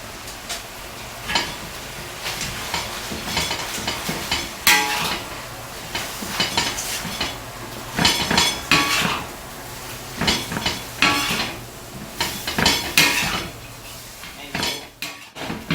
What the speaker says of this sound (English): Stir fry until all the leaves has wilted